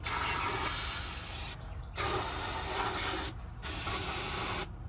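An aerosol spray can hissing onto the rear differential of an F-body Camaro with a 10-bolt axle, in three loud, close bursts of roughly one and a half seconds each, separated by brief pauses.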